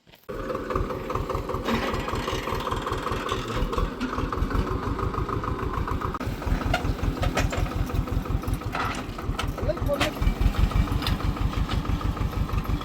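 Steady engine of a farm machine sowing maize in a field, a continuous close, loud mechanical rumble with a regular pulsing beat, running alone without talk.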